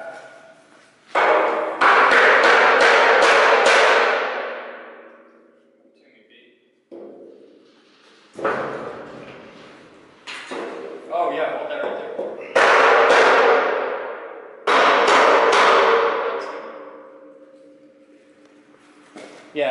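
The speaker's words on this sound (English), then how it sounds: "This is when we need the mini sledge." A mini sledgehammer drives a 2x4 block against pallet rack crossbars during a warehouse rack install, giving a few loud, sharp, ringing metallic impacts spaced a few seconds apart, with voices talking between the blows.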